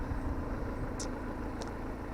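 A Peugeot 308 with a 2.0 HDi 150 hp diesel engine idles while warming up, a steady low rumble throughout, with two brief high-pitched ticks partway through and no talking.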